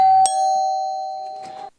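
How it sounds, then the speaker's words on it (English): A doorbell chime strikes its top and bottom bells, a sharp ding followed by a long, clean ringing tone that fades over about a second and a half, loud and close. "watch the dinger ding both top and bottom bells"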